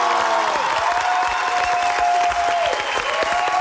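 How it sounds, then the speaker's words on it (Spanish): A television studio audience breaks into sustained applause for a guest, a thick, even roar of clapping with light cheering, while a sustained musical tone plays beneath it. "¡Un aplauso!"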